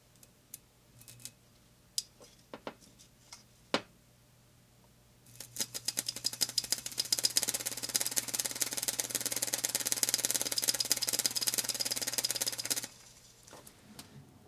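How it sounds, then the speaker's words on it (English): Small universal motor run on AC, starting after a few scattered clicks and settling into a loud, steady buzzing whine with crackling arcing for several seconds before cutting off. "Now I'm going to run the same motor on AC to show that it's a universal type motor."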